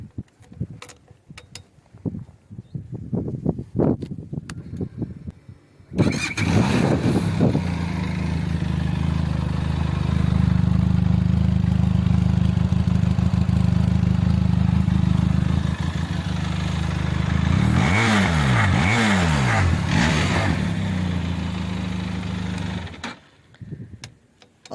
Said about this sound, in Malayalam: ഇതിൻ്റെ എക്സോസ്റ്റ് നോട്ടൊന്ന് ഞാൻ കേൾപ്പിച്ചു തരാം